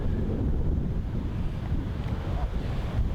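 Strong wind buffets the microphone with a dense, rumbling low roar that stays loud and continuous, gusting slightly, with no voices.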